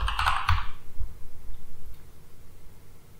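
Keys clatter in a quick burst of typing on a computer keyboard while a shell command is entered, a dense flurry at the start followed by fainter scattered taps, close and alone.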